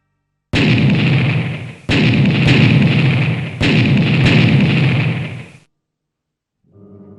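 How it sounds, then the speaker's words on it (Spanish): Heavy bombardment explosions from a tank attack boom out in three long, loud rumbling bursts, each sharp at onset and rolling on before cutting to silence, with a faint low sound returning near the end. "El estruendo ensordecedor del ataque del tanque Shocker despertó a un hombre"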